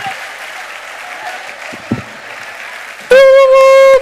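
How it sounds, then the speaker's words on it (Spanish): Audience applause at a carnival murga show, a steady wash of clapping and crowd noise for about three seconds, then cut off by a sudden loud, sustained tonal blast. "Fuerte el aplauso para Iván Bastonero."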